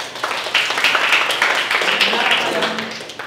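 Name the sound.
audience applause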